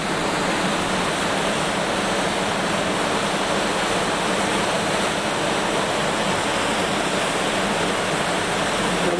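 Chilly Colorado River water rushes in a steady, loud, broadband wash close by, unbroken for around nine seconds with no speech.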